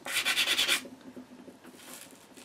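Sandpaper rubbed over a metal shuttle from a Versal mending sewing machine makes a rapid, rhythmic rasping of about five quick strokes, followed by quieter scraping.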